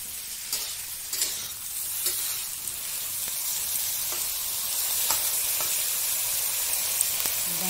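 Vegetables for a Bengali chorchori fry in a pan with mustard, garlic, coriander and chilli, giving a constant close sizzling hiss broken by repeated scraping strokes of a stirring spoon, with no talking.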